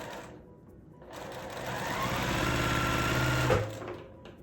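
A sewing machine stitches quilt block pieces for a farmhouse quilt, its motor whirring up into a fast, steady mechanical hum for a few seconds before slowing, close and alone.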